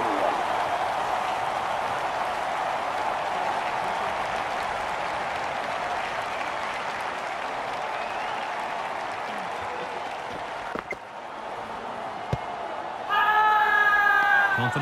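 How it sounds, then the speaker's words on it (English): Cricket stadium crowd at a Pakistan versus India match roaring and applauding after a diving catch, a dense sustained wash of cheering that fades slightly, then a louder burst of whistles and shouts near the end. "The crowd are going berserk."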